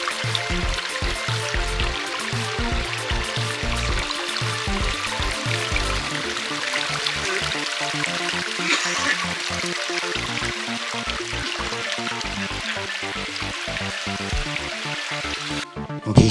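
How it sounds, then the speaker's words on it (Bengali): Mountain streams rush over boulders on the Thansing trek in the Himalaya as a steady, broadband wash of water, close and constant, with no voices. "ছোট ছোট স্ট্রিম সব জায়গায় গেছে, অনেকগুলো এরকম শয়ে শয়ে স্ট্রিম"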